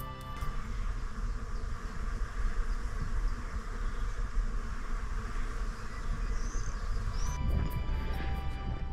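Insects buzz densely in a rapeseed field, a constant close droning hum that fills the whole stretch, with a faint bird call near the end and brief footsteps on the path.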